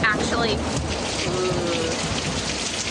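Heavy thunderstorm rain drums steadily and loudly on the roof of a camper van, a dense unbroken patter with a low rumble underneath.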